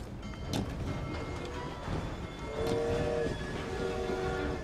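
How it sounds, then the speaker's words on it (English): A train rumbling along in the video game Assassin's Creed Syndicate, a steady, dense mechanical roar with a brief tonal whistle-like squeal partway through, fairly close and continuous. "Let's get to the front of the train."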